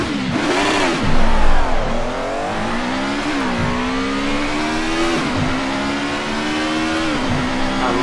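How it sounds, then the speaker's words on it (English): Alfa Romeo 155 V6 Ti with four-wheel-drive rally physics in Assetto Corsa, its V6 engine revving hard and dropping in pitch at repeated gear changes, about five shifts in a steady loud run with no talk. "I love the sound of the gear change."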